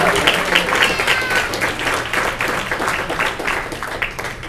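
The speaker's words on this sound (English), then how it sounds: "let's just do one more clapping for all the awardees" Film festival awards audience claps for the awardees in a steady, fairly loud burst of applause with some crowd murmur mixed in, lasting several seconds and easing slightly at the end.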